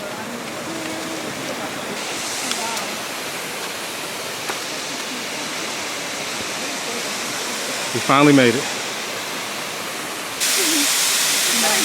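Steady roaring rush of a nearby waterfall in Greece, reached after an hour's hike, fills the whole clip, with people briefly talking over it; the roar swells louder near the end.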